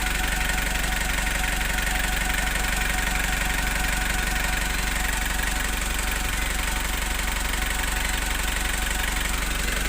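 Steady, continuous idle of a Foton Traveller van engine running after a repair, a constant dense hum and rumble with no pauses, loud and close, with no talking.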